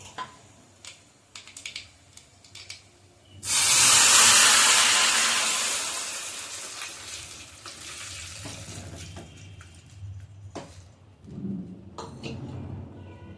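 Liquid for pappu charu (lentil rasam) poured into hot tempering in a pan, bursting into a loud, sudden hiss that slowly fades over several seconds, with light clicks and clatter before and after.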